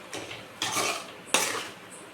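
A spoon scrapes and clatters in a cooking pot as quail pieces are stirred into a thick masala, with three distinct bursts of stirring, the last one sharpest.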